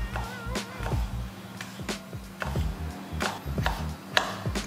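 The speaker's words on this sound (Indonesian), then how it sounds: "kita prepare bawang putihnya, kita slice-slice aja. Slice yang tipis." A knife slices garlic thinly on a cutting board in a steady series of crisp, close chopping taps, with faint background noise.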